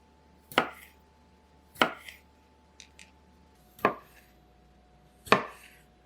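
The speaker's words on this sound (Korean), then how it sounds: "방울토마토는 3등분으로 자르시고요" A knife cuts cherry tomatoes into thirds on a board, giving four sharp, evenly spaced chops and a couple of faint lighter taps between them, close and clear with no talking.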